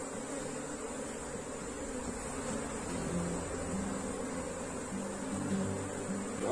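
A honeybee swarm hums steadily around a hive, a continuous close insect drone with a faint high whine that holds even throughout, with no talking.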